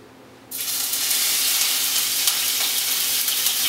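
Onions hit a hot pan for a mild veggie curry, with a sudden loud hiss that settles into a steady, bright, close sizzle.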